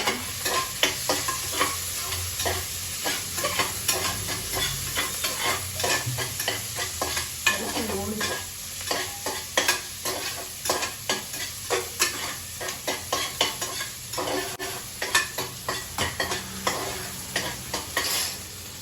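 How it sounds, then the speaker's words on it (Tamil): Chopped onions frying in oil in a home kitchen, a continuous sizzle broken by repeated spatula stirring and scraping, close and uneven in rhythm, with no one talking. "எண்ணெய் ஊற்றிட்டு அது ஆனியன் கட் பண்ணி வச்சுக்கிறத அப்படியே போட்டோம்"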